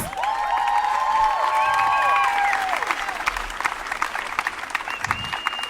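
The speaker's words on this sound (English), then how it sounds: "can we make some noise for the LexPhil 5?" Applause fills the hall at a Beat of the Heartland stage show, loud continuous clapping with cheers and sliding whistles for about three seconds, then thinning into scattered claps and a lone whistle.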